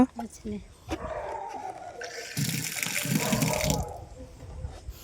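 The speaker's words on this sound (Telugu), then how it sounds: "వచ్చినాయి ఇట్లా నీళ్ళు" Water gushes from newly fixed household plumbing, a hissing stream that starts partway through and runs for about a second and a half, while people talk nearby.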